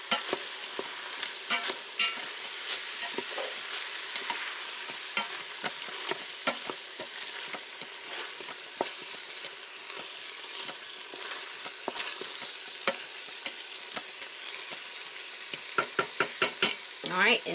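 Ground beef seasoned with kosher salt gets stirred in an Instant Pot, a steady low sizzle under repeated spoon scrapes and clacks against the pot, growing into quick knocks near the end, fairly soft and close.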